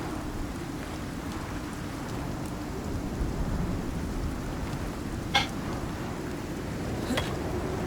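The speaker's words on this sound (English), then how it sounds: "we've got a storm coming in" Thunderstorm rain in the video game Icarus, a steady dense hiss of downpour with two brief distant thunder cracks or flashes rising out of the wash near the end.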